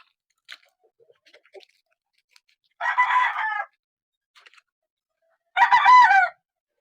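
Game fowl roosters crowing twice, each crow a loud, close call about a second long, with faint clucks and small scratching sounds in the quiet stretches between.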